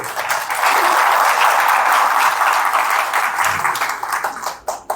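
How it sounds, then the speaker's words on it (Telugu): Sustained applause from an audience at a community-hall gathering, dense and loud for nearly five seconds before thinning out at the end. "మీరందరూ చప్పట్లు పెట్టారు"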